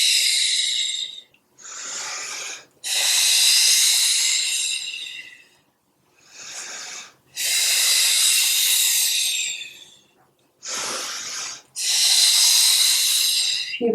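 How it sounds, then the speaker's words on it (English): Heavy, forceful breaths during a floor workout, with long hissing inhales and exhales alternating in a steady, slow rhythm close to the microphone, separated by short silent gaps. "Inhale and exhale."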